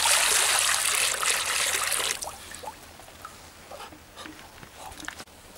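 Water being poured, a loud rushing stream for about two seconds that thins into faint trickling and scattered drips.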